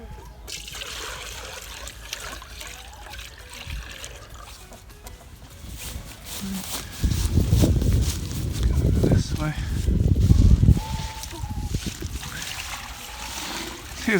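Water trickles and splashes into farm animals' drinkers as they are filled, with chickens clucking nearby and voices in the background; the pouring grows louder and fuller in the second half.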